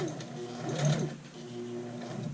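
A sewing machine stitching a dart on a skirt, a steady close mechanical whir with a rising and falling motor tone, the run briefly slowing mid-way before resuming for a back stitch.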